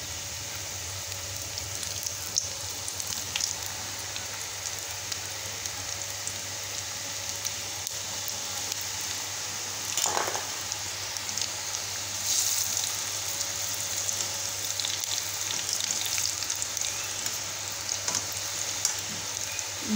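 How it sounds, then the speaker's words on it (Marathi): Wheat-flour kapanya, crisp sweet dough pieces, frying in hot oil over a low flame. A continuous soft sizzle and crackle holds steady throughout, with a few brief louder pops. "बारीक गॅस करून मस्तपैकी आपल्याला गोल्डन ब्राऊन होईपर्यंत आपल्याला भाजून तळून घ्यायचे आहेत"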